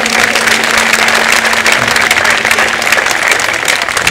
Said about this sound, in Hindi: बढ़िया, ताली हमने दी एक बार।